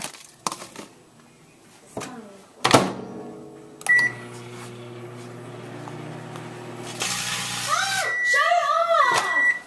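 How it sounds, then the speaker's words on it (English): A low appliance hum runs through most of the stretch, broken by clunks and knocks, then a hissing burst and a rising whine near the end. "gonna put this in the microwave."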